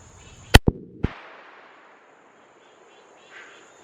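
.45-70 Govt rifle firing a 405-grain load outdoors on a humid day, one sharp loud blast with quick echoing cracks right after, then a fading rumble and quiet.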